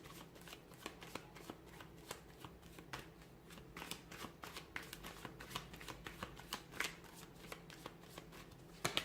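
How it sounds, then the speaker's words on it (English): A deck of tarot cards riffles and snaps repeatedly in quick irregular bursts as it is shuffled, close and fairly quiet, with no talking. "give the cards a shuffle"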